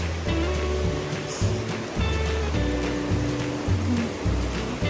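Steady rushing mountain river water flows continuously, a broad dense roar close by with no pauses.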